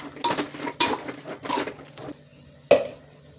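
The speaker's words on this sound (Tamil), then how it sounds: "நல்லா கிளறி" Food is stirred in a cooking pot during chicken biryani preparation with salt, chili powder, mint and coriander, giving a few scraping, clattering strokes of a utensil against the pot, fairly close, ending with one sharper clank.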